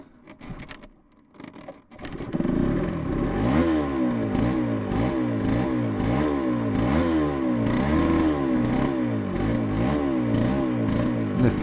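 A Yamaha TZR 250 3XV two-stroke motorcycle engine starts and runs roughly, its uneven revving pulses overlaid with a metallic rattle; close and loud, with no voices.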